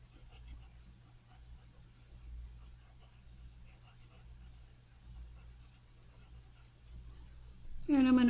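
Pencil drawing on paper, filling in an eye's pupil in a portrait sketch: faint, steady scratchy strokes continue throughout at close range, with a louder rub near the end.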